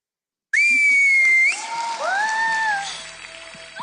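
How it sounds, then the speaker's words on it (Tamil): An audience at a children's singing competition on a TV stage whistles in loud, sustained, rising and falling tones, with several whistlers overlapping amid faint crowd noise. "மேடம், ஆஷிஷ் ப்ரோக்கு ஒரு விசில் அடிச்சிங்க"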